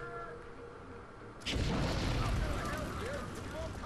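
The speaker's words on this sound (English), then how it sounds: "I guess because they threw grenades." A grenade explosion in the video game BioShock bursts in suddenly and loudly after a quieter stretch, followed by a rumbling, crackling roar and debris that keeps the sound dense to the end, with voices underneath.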